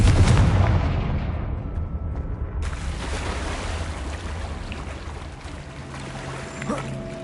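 Fiery Confringo spell blasts in the game Hogwarts Legacy on PS5: a loud booming burst at the start that rolls off into a long, rumbling, crackling decay, alone without talk.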